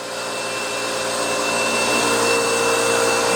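A vacuum table's suction runs as a loud, steady broadband roar with a constant whine, holding evenly for a few seconds with no talk.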